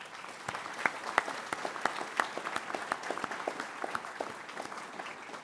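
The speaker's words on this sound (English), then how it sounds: "I'd like to start by asking you to join me in a round of applause for Anne Weir and her team" An audience at a summit welcome session claps in a round of applause, individual sharp claps standing out clearly over a steady bed of hand-clapping, moderately loud and continuous.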